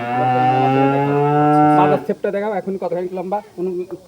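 A Holstein Friesian heifer calf lets out one long, loud, close moo lasting about two seconds, followed by people talking nearby.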